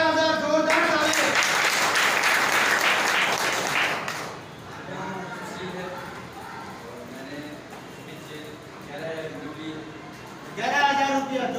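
A crowd at a business gathering bursts into loud, dense clapping for several seconds, then fades under someone speaking, before another short round of applause rises at the end.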